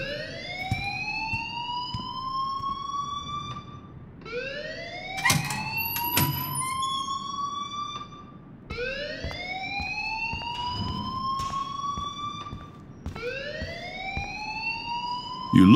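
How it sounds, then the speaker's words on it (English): An alarm blaring inside a school in the video game Life is Strange, a loud rising siren-like wail that repeats four times in steady cycles, alone without talk. "please turn off that alarm since that's your job."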